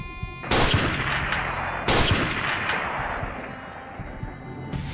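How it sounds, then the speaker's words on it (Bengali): Two gunshots fired at an elephant ring out as a story sound effect, sharp loud cracks about a second and a half apart, each trailing into a long echoing rumble. "কিছুটা দূরে থাকা হাতিটাকে লক্ষ্য করে পরপর দুবার গুলি ছোঁড়ে"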